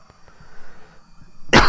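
A single short, harsh cough bursts out near the end, following a second and a half of quiet, low background sound.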